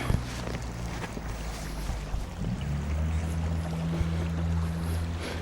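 Water swirls and washes around a person's boots while they wade, a steady low rushing flow with wind buffeting the microphone and a few splashy knocks, close and continuous.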